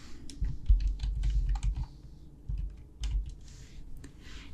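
Rapid keystrokes on a computer keyboard as a database name is typed, irregular clicks in short bursts with brief pauses, close and moderately loud with no talking.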